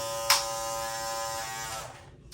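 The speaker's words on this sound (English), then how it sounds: "This is a pretty loud clipper, as you guys can see here." An Andis Master cordless hair clipper buzzes loudly and steadily up close after a brief click, then winds down and stops.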